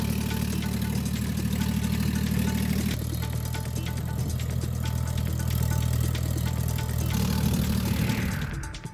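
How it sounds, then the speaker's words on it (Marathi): A tractor runs over a six-acre maize field in Yeola, its engine holding a steady, loud, low drone with a shift in tone near the three-second mark, fading at the end. "येवल्यामध्ये एका शेतकऱ्याने आपल्या 6 एकर मक्यावर ट्रॅक्टर फिरवलाय."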